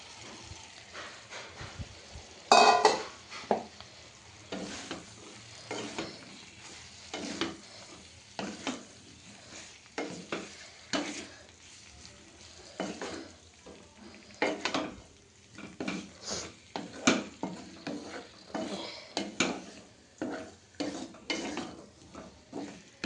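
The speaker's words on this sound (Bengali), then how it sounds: "দেখো ওই ফুলকপিটাকে ভালো করে কষিয়ে নিই" Potatoes and cauliflower sizzle softly in a home kitchen pan while a spoon scrapes and clinks against the metal in an irregular stirring rhythm, with the hiss of frying steady underneath.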